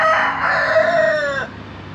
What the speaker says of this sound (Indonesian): banyak ayam berisik